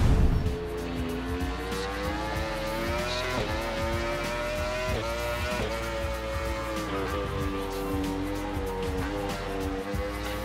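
Yamaha R1 superbike in GP Bikes racing at Thruxton, its engine droning loud and steady with rising and falling pitch through gear changes, continuous for the whole run without talk.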